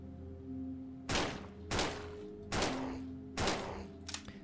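Gunfire in a horror video game demo, five sharp shots at irregular intervals, each with a short decaying tail, over a low steady hum and no talk.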